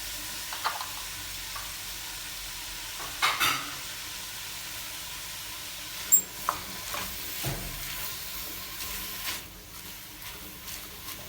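Chopped cabbage stirred in a hot pan, a steady low sizzle with occasional scraping and clicking of the utensil, close and fairly quiet, with no voices.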